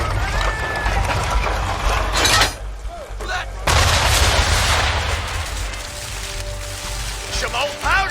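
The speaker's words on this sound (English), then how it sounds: "aim all guns at her bow and do as much damage as possible" Ship cannons in Assassin's Creed III fire on an enemy vessel's bow, loud booming blasts and crackling gunfire filling the scene with a brief lull midway, game music and voices mixed underneath.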